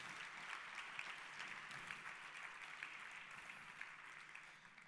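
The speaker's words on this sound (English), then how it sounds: "Let's give them a huge round of applause." Steady, distant applause from a conference audience, a dense continuous patter of many hands that holds level for several seconds before easing slightly.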